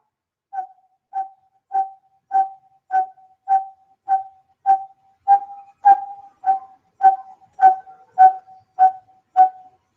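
A coppersmith barbet gives its monotonous call, played back as a recording: a steady series of about fifteen identical hollow 'tuk' notes, evenly spaced roughly every half second, growing slightly louder and stopping cleanly.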